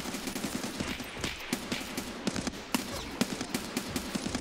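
Rapid gunshots in Escape from Tarkov, a fast sharp volley of cracks with some distance and reverb, fairly quiet and continuous for several seconds with no talking.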